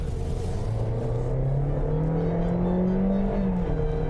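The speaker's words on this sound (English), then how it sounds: "did you hear that gear change?" A 2020 Toyota Corolla ZR hatch engine pulls steadily under acceleration, its pitch rising smoothly and then dipping once as the automatic transmission shifts, heard from inside the vehicle.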